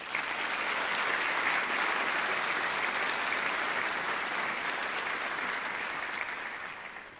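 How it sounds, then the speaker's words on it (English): Steady, full audience applause at a university winter graduation ceremony as the Chancellor is welcomed to speak, sustained for several seconds and tapering slightly at the end, with no talking over it. "please welcome her with another round of applause"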